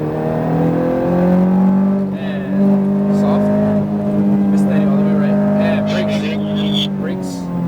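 A Ferrari F430 engine revs and drones steadily at high pitch on a race track, holding a sustained note with slight rises and dips, loud and close.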